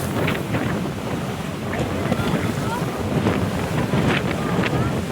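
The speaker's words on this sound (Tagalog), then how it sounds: "Parang nanunulak pa yung hangin." Strong seaside wind at San Nicolas, Batangas buffets the microphone in a loud, continuous roar with gusty surges, with the faint wash of waves underneath.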